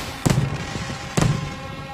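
Fireworks mortars fire twice about a second apart during a night pyrotechnics show, each launch a sharp, loud thump with a burst of crackle, the pair standing over a steady rumbling background.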